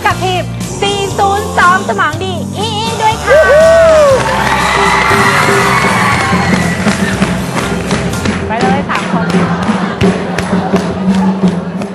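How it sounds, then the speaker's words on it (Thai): Studio audience on a Thai talk show about love cheering and whooping with clapping, loud and continuous throughout, with music and voices mixed in underneath. "ขอเสียงปรบมือ"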